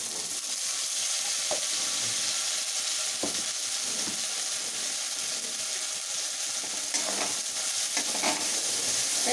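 Ginger paste fries with tomato in oil, making a moderate, even sizzle with a few scrapes and taps of stirring scattered through.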